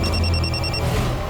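A telephone rings with an incoming call, a rapid electronic trilling bell repeating for under a second, loud and close over a noisy room background.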